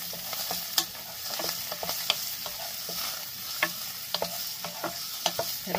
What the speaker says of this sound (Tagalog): Igisa ang bawang